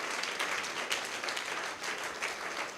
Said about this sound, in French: Si tu veux acclamer, acclame.